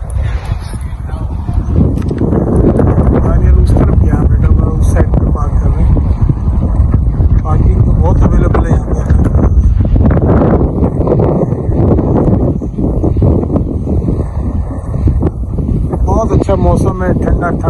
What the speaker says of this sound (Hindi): मौसम है, ठंडा ठंडा हवा चल रही है।